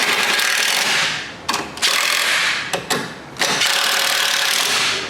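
Nuts on a 2001-2005 Honda Civic strut and coil spring assembly being tightened with a hand tool, loud close metallic ratcheting in long runs broken by brief pauses, no talking.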